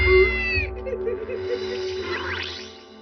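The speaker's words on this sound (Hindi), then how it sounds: "डरावनी बिल्ली।" A short, eerie cat meow rises and wavers, mixed with a musical tone and low rumble, fairly loud for about three seconds.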